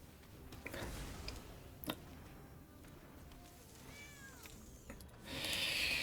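A kitten card in the video game MTG Arena gives a short, faint meow over quiet game ambience and soft clicks.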